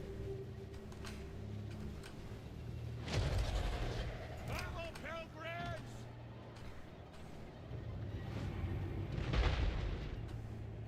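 Peasant trebuchets firing in Total War Warhammer 3, heard as a couple of dull booming impacts over a constant battle din and rumble, with a distant battle cry and shouting in between.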